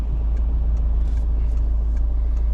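Car fitted with new Monroe front shock absorbers and bushings driving through Bucharest, a steady low road rumble and engine drone from inside the cabin, with no talk.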